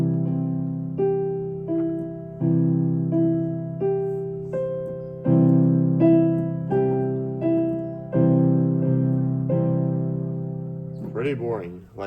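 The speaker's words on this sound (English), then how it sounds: "let me just make it consonant only" A piano plays a simple, steady run of chords built only from consonant intervals, each struck and left to ring and fade. About ten chords follow one another before a voice briefly cuts in at the end.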